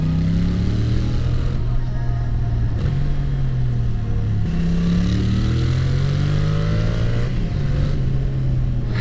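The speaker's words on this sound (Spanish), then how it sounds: "¿Suena bien el escape o qué?" Yamaha Tracer 7 motorcycle with an aftermarket exhaust, a steady loud rumble with engine pitch rising and falling through repeated revs and gear changes across the whole stretch.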